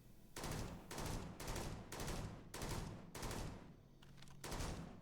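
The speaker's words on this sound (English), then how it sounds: "I'm gonna really quickly reload the save here just because I want to see what it sounds like. All right, we're back. Okay, this is the Halo 5 BR." Halo 5 battle rifle fired in a Starfield mod, six or seven loud evenly spaced bursts of three-round fire, alone with no talk.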